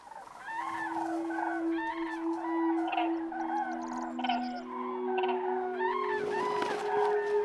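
A flock of wintering cranes calls from the Spanish dehesa, overlapping bugling and trumpeting notes rising and falling continuously, with a steady tonal hum running underneath.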